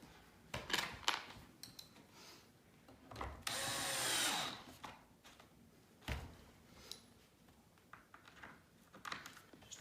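A power driver tightens pocket hole screws into the corner supports of a wooden farmhouse bench. A single sustained whirring burst is surrounded by short clicks, knocks and handling noises, all close and fairly quiet.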